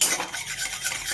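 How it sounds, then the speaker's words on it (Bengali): Mustard and radhuni seeds frying in oil with bitter gourd, stirred in a pan: a continuous bright scraping and crackling sizzle, close and steady, with no voices. "নাড়িয়ে চাড়িয়ে দিই"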